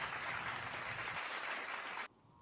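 Applause from a small group on a sports podcast, steady clapping for about two seconds that cuts off abruptly into quiet.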